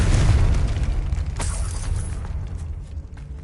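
A Confringo blasting spell explodes in Hogwarts Legacy, a loud, close boom with a crackling, shattering burst that rolls into a dense rumbling tail lasting several seconds.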